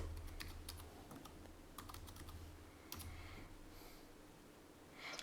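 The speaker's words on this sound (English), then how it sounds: "let me go ahead and type something in the search bar" Keys click in quick, uneven bursts on a Fintie keyboard case for an Amazon Fire HD 10 tablet, typing close up and fairly quiet, with short pauses between runs of keystrokes.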